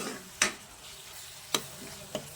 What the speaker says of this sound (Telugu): ఆయిల్ మొత్తం బయటకు వచ్చే వరకు ఇట్లా ఫ్రై చేసుకోవాలండి